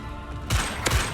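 The Bombarda blast spell in Hogwarts Legacy goes off as two quick, heavy booming bursts about a third of a second apart, each with a low thump and a broad crackling roar.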